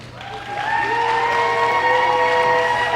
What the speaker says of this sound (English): roar of the crowd for this dog coming in